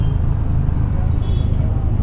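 Steady road traffic rumbles close by, a dense low drone of cars and heavier vehicles passing near a crowded wine shop, continuous and loud throughout.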